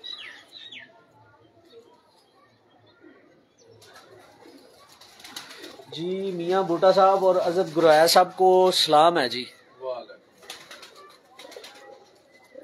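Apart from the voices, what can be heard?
pigeons cooing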